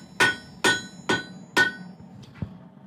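Four sharp, evenly spaced hammer blows ring out on forge-heated steel being necked down with a cross peen, each strike bright and metallic with a short ring, followed by two lighter taps near the end.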